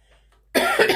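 One short, close cough breaks out abruptly after a near-silent moment.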